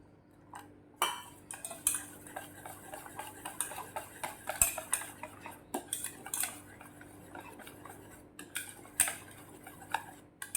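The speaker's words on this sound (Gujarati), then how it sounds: "ફરીથી આપણે તેને મિક્સ કરી દઈશું બરાબર" A spoon clinks and scrapes repeatedly against a bowl while bhajiya batter is mixed, in quick irregular bursts, close by with no talking.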